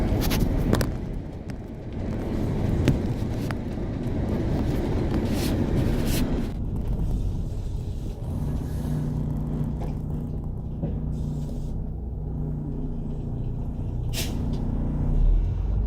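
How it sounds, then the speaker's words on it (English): A 2001 MCI bus cruises a country highway, with a steady, loud rumble of engine and road noise from inside and a few brief clicks and rattles. "driving the 2001 MCI out here in the country"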